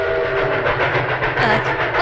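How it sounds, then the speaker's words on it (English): A train in a horror train video game rumbles past with a low rolling clatter and faint whistle tones, fairly loud and continuous for a couple of seconds. "Another train."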